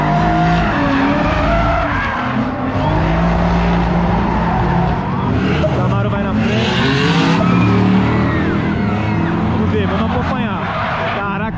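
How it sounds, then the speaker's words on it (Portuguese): Drift cars, including a Camaro, slide at a Brazilian drift championship, their tires skidding and squealing loudly and almost without pause over a heavy engine roar, with a voice talking over the noise. "O Zezinho tirou pelinho, rapaziada, do pneu ali."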